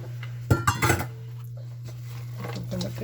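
Apples and raisins are stirred into fruitcake batter, with a quick cluster of close clinks of a utensil against the bowl followed by a quieter stretch of soft movement over a low steady hum.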